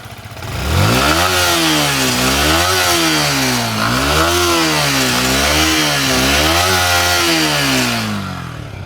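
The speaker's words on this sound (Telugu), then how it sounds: "ఒకసారి సౌండ్ వినండి ఇంజన్ దగ్గర" Close to the engine of a Yamaha MT 15 V2 BS7 motorcycle, the revs rise and fall repeatedly in a loud, steady cycle of smooth throttle blips lasting several seconds, with no voices.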